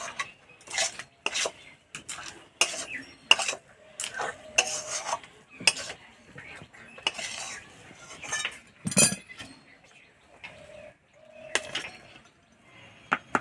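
Sweet kheer is scooped from a pan onto a metal plate, with a series of irregular scraping and clinking strokes of a utensil against metal, close and fairly quiet, with brief pauses between strokes.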